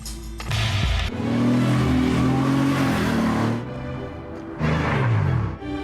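A TVR Tuscan 2 British sports car engine revving, loud throaty rises and falls with a sharp cut-off midway before a second burst of revs.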